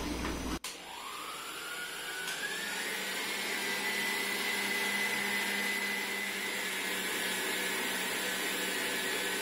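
Electric blender beating acerola cake batter into a cream, starting with a sharp click and then whirring loud and steady, its pitch rising briefly before holding constant, with no talk.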